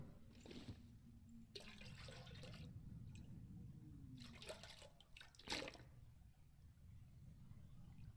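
Water being taken from a toilet in The Long Dark, a faint splashing and trickling of water in a few short bursts, heard close and quiet.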